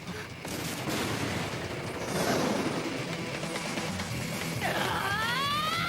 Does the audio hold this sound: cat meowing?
no